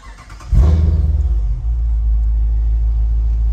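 A car engine, on a vehicle recently returned to stock, cranks briefly, then catches with a loud, close burst and settles into a steady, deep idle rumble.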